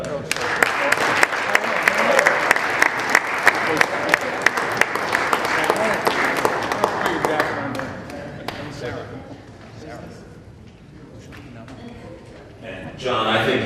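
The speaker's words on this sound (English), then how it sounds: "Ladies and gentlemen, a round of applause for Mr." An audience at a formal dinner claps steadily for several seconds, the applause fading out as a voice speaks over and after it.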